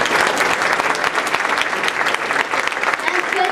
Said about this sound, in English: I think we should give them an applause.